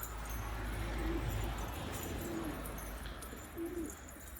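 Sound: pigeons

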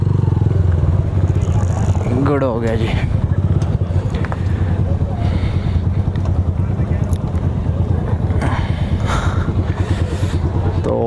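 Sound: heavy sports motorcycles arriving

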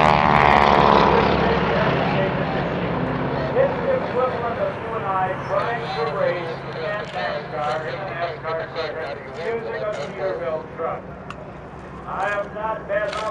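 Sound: aerobatic airplane flying at an airshow

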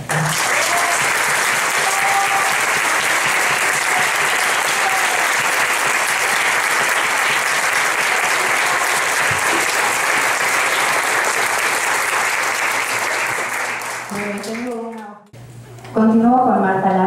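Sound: audience applause

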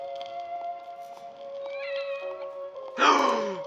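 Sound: cat meowing in video game The Evil Within: The Consequence

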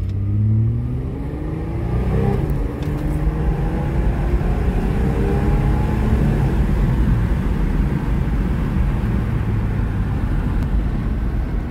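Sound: old truck engine accelerating

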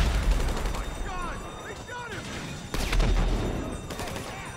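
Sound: gunfire in the video game GTA V Online

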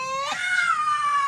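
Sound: cat meowing

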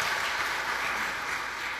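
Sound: audience applause

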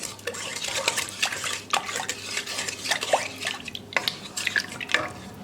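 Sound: stirring yeast mixture with a tablespoon of sugar

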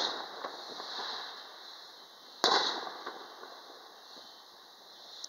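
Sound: fireworks exploding

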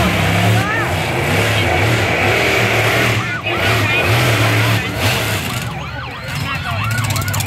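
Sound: monster truck siren

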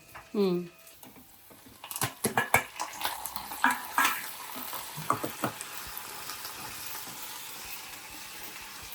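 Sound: tempering with cumin and onions frying in a pan

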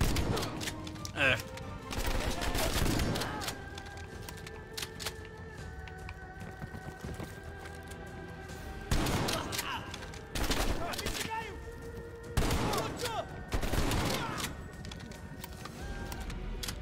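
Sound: shotgun firing in video game Call of Duty: Black Ops Cold War

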